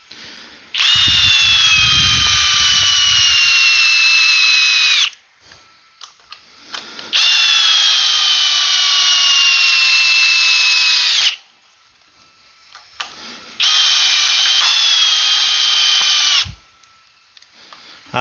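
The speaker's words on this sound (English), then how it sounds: "Man, I miss this drill." A cordless drill set to drill mode runs in three long sustained bursts with a steady high motor whine, each lasting several seconds and separated by brief pauses, loud and close.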